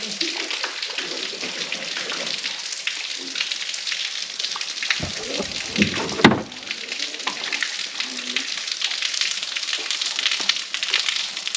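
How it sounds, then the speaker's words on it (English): A small waterfall near a lake, heard from a kayak as a steady hissing rush of falling water that stays constant throughout, with a brief louder clunk partway through. "Found your waterfall."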